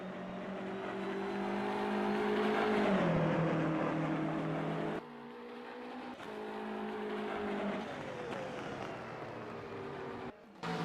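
GT3 race cars lapping Donington Park National circuit, a continuous loud engine roar that rises and falls as cars pass, with gear changes and a brief dip near the end.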